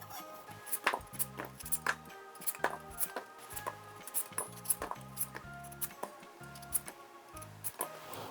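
A knife slices radish steadily on a cutting board, evenly spaced crisp thuds about twice per second, close and quiet, with faint background music and no speech.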